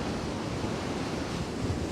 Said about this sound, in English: this is one of the best places to see the waves as they whip up this ramp here